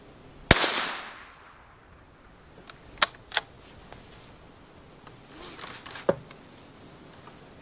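A rifle shot, from either a Ruger American or an M&P 15, cracks once sharply outdoors and rings off, followed by a few faint scattered clicks and knocks with no voices.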